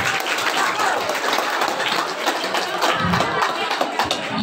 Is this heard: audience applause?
yes